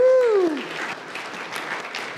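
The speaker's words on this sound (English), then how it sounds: "Let's give them an applause." Audience applause at a Catholic vocations talk, a dense wash of clapping with a few cheers that swells right after a voice and stays steady and fairly loud through the rest of the moment.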